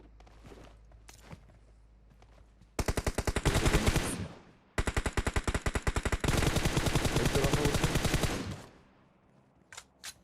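Gunfire in the mobile battle-royale game PUBG Mobile: after a quiet stretch with faint clicks, two long, loud bursts of rapid automatic fire crack out close by, separated by a brief pause, then stop abruptly.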